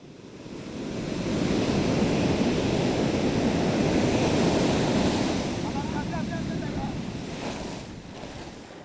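Ocean waves breaking on the beach at Assinie, near a small fishing village threatened by erosion: a broad, loud roar of surf that builds, holds for several seconds and then fades, with wind noise over the microphone.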